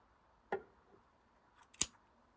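Scissors snip through a strand of yarn at the end of a knitted piece, two short crisp cuts about a second apart, close and clear against a quiet background.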